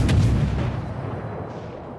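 Heavy naval guns firing in the World of Warships game, a loud booming report at the start followed by a long rumbling decay, with no talk over it.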